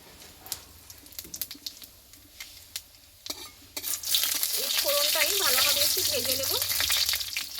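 Whole cloves, a cinnamon stick, a small cardamom, two bay leaves and cumin seeds hit hot oil for masoor dal, starting with scattered clinks and taps, then bursting into a loud, continuous sizzle with crackling pops.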